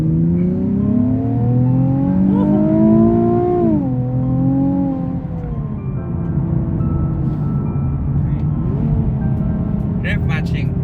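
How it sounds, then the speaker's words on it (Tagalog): A Nissan 370Z engine blips and drops in pitch as it rev-matches on a downshift. The engine note is smooth and sustained under continuous talking. "Pag down gear ako, ganito siya. Yun ang rev matching na Nissan 370Z."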